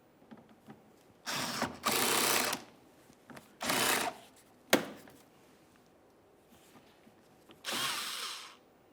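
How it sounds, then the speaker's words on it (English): T20 Torx driver backing screws out inside the rear wheel well of a 2008-2017 Buick Enclave, with several separate bursts of whirring from a power driver and a sharp clack between them, close by and with no talk. "let's continue on with a T20 Torx driver so we can remove several screws inside of each of the rear wheel wells"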